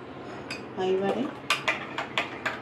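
Homemade vegetarian tomato sauce being strained in a home kitchen: a metal strainer and spoon clink against a pot in a series of sharp, close taps after a brief scraping rub.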